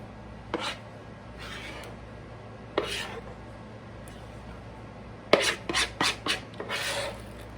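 A spatula scrapes gingerbread cake batter from a bowl into a greased 9x9 cake pan, with a few soft rasping strokes and then a quick cluster of scraping taps near the end, close and fairly quiet.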